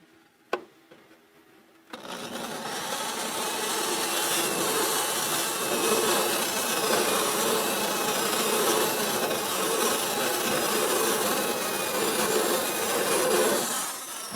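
After a brief tap, a continuous grinding, rasping drone of a drill biting into car foot-well or wheel-well metal runs steadily for over ten seconds, loud and close.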